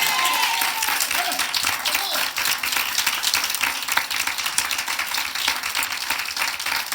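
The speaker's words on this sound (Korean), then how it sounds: "우리 하나님께 박수로 영광 돌리겠습니다" Church congregation clapping during a Sunday morning worship service, a full, dense burst of applause filling the sanctuary, loud and sustained throughout.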